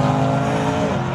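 A 600 hp G-Power BMW M4 engine roars loudly and steadily as the car moves past close by, with no voices.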